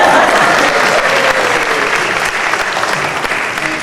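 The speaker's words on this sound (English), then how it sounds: "Yeah, we can clap." A large audience at a coronation ceremony applauds loudly and steadily for a few seconds, with dense clapping and a faint murmur of voices beneath it.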